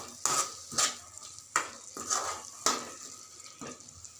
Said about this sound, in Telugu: ఉప్పు వేసుకొని మధ్యలో కలుపుతూ ఉండండి, ఉల్లిపాయలు ఊరిగా అడుగంటిపోతాయి.